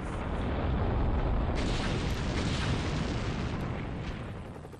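A nuclear explosion test in the Nevada desert unleashes a loud, sustained rumbling roar that fills the air for several seconds before slowly tapering off.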